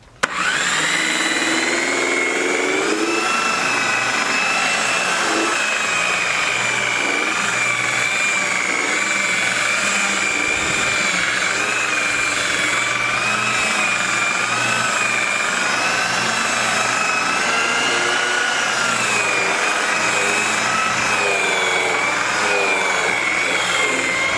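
Rotary buffer polishing a car's painted panel, a loud, steady high-pitched motor whine with slight pitch wobble, running continuously and close by.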